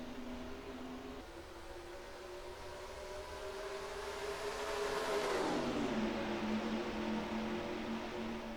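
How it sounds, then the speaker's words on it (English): Stock car engines drone past at Kansas in NASCAR Racing 2003, a steady roaring whine that swells and dips in pitch as a car passes close by, with no talk. "As the green flag is waving, we're racing in the Midwest at Kansas."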